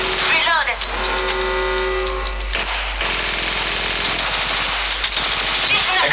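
Rapid automatic gunfire in the Apex Legends Mobile battle royale game: a loud, sustained burst of shots with sharp individual cracks, followed by scattered impacts and game effects.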